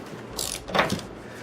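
A ratchet with a 17 mm socket loosens a strut nut on a Genesis Coupe, giving a short burst of clicking pawl sounds followed by a brief metallic rasp, close and fairly quiet.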